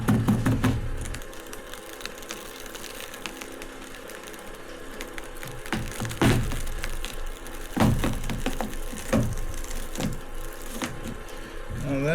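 Rusted side sill of a 1964 Toyota Land Cruiser FJ40 crumbling apart, close crunching, cracking and scraping of brittle metal in irregular bursts, with a few louder snaps amid steady gritty rubbing.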